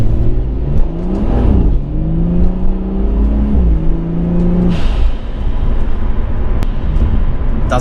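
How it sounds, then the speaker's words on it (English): Stock blow-off valve on a Ford XR6 Turbo, vented to atmosphere, with loud engine revving and rumble that swells and drops, plus brief airy whooshes as the throttle closes, close up. "I actually vented atmosphere the blow-off valve."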